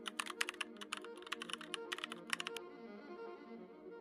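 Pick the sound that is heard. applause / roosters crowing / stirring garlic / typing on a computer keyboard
typing on a computer keyboard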